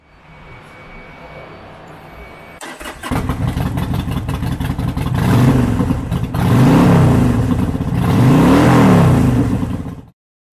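A 2012 Harley-Davidson Sportster 1200 Forty-Eight motorcycle engine cranks and fires up, then idles with a throbbing beat before being revved twice in rising, falling surges, loud and close.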